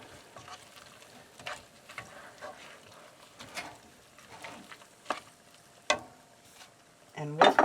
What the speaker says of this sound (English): These are chicken of the woods, and I've just chopped them up into little squares, and I'm just going to let this cook in here